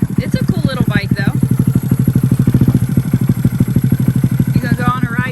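A Honda Grom, a small motorcycle, idles close by with a loud, rapid, steady thumping putter for the whole stretch. Brief voices come in at the start and end.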